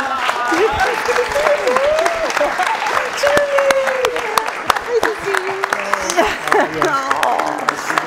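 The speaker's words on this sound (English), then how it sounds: "Come and say a huge applause for the Met Horn section." Applause for an orchestra horn section during a live horn hangout, continuous clapping heard under a speaking voice that carries on over it for the whole stretch.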